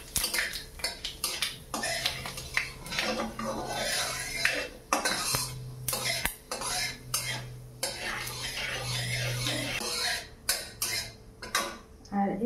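Panch phoron spices frying in a pan for mango pickle, with repeated metallic scrapes and clinks of a spoon stirring against the pan over a soft steady sizzle, close and fairly loud.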